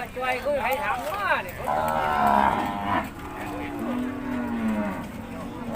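Cattle moo loudly and repeatedly at a busy rural livestock market in Thailand, long drawn-out calls overlapping one another amid crowd noise and people talking nearby.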